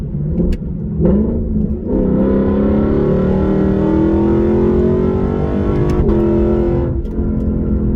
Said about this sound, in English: I want you guys to take a listen to the exhaust that I have